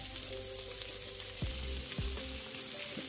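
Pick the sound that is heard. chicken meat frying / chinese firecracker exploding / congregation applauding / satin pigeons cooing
chicken meat frying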